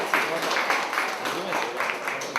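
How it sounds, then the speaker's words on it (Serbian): A Belgrade National Theatre audience applauds a young student painter at a charity art auction, steady clapping from many hands filling the hall at moderate loudness without a break. "Jovane, jedan aplauz za Jovana."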